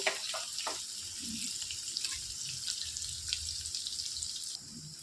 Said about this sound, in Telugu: సన్నగా తరిగి పెట్టుకున్న ఉల్లిపాయలు వేసేసుకోవాలి మొత్తం ఫ్రై చేసుకోవాలి బాగా